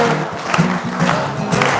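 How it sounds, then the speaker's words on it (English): An audience claps hands in rhythm during a Hare Krishna chant at a Saturday love feast, steady claps under sung voices in a roomy hall. "Clap your hands."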